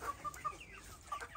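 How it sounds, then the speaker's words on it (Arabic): A rooster clucks in short, quick bursts, a few sharp calls close by against a quiet background. "ابو عمار عايز يمسك الديك ده"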